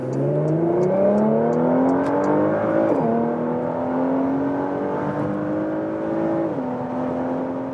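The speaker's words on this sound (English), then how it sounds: "Whoa, that exhaust goes nuts already right now." A 2022 Porsche Macan GTS in Sport Plus mode accelerates hard on the Autobahn from a rolling start, its engine note rising steadily through two gear shifts, loud and continuous as heard from inside the car.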